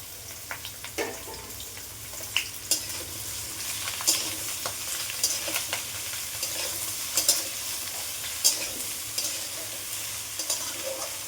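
Chopped vegetables for a Bengali ash gourd greens dish fry and sizzle in a pan, with a soft steady hiss broken by repeated scraping stirs of a spatula, fairly close and quiet.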